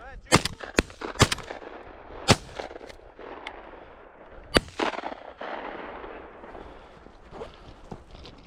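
Shotgun shots fired at pheasants on a bird ranch hunt: several sharp, loud reports spaced irregularly, two close together near the start and another a few seconds later, with footsteps and rustling outdoors between them.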